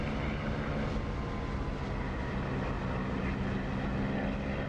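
A propeller aircraft engine in a flight simulator game, with the prop pitch set for 2700 RPM, gives a steady, loud, broadband drone that holds constant throughout with no talk.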